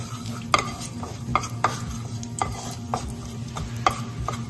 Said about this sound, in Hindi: अब इसे अच्छे से इसमें मिला लेंगे